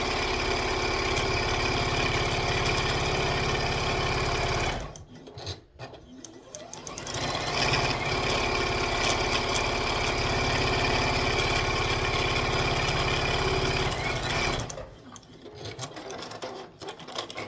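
A sewing machine stitching quilt pieces cut into half-square triangles for an Oberlin Star block: a steady, close mechanical hum and whir that stops briefly twice, then resumes.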